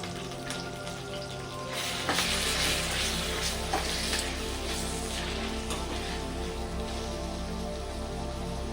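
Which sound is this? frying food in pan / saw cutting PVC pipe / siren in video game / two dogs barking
frying food in pan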